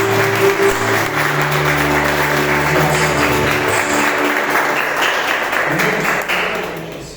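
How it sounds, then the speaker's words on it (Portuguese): A church congregation at a family worship service gives a long round of loud, continuous applause, a steady wash of clapping with faint voices and tones underneath that tapers off at the end. "E uma salva de palmas."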